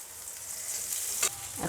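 Fish oil and gills frying with onion in oil, a soft steady sizzle close by with a brief clatter of a utensil near the end.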